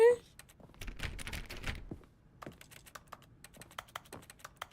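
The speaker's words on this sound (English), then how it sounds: "Why does everything sound like I'm hitting a keyboard?" Rapid, uneven clicking of keyboard keys in the video game The Stanley Parable, close and fairly loud, with bursts of faster typing and short pauses, no talking.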